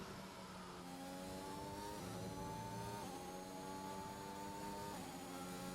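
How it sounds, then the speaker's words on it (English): A Williams Formula 1 car's engine in the F1 2021 racing game at the Dutch Grand Prix, a steady high whine rising through gears with repeated upshifts, loud and continuous without talk. "I do believe that's George Russell's Williams there"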